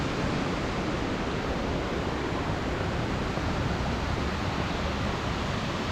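Continuous rushing roar of a waterfall in Gangtok, Sikkim, broadband and steady at full strength throughout with no pauses, close by and heard alone without talk.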